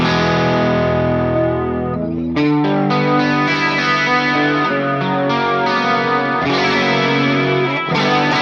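Guitar chords through an analog stereo chorus effect into a Vox AC15 amp, lush and swirling, full and continuous, with some overdrive-like grit and strums changing every second or so.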